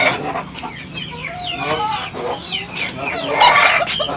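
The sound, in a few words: bekisar chicken crowing, a cemani and junglefowl hybrid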